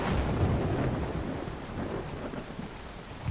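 A dark, stormy night in the game Brothers: A Tale of Two Sons brings steady heavy rain with low rolling thunder, a continuous dense wash of sound with no voices.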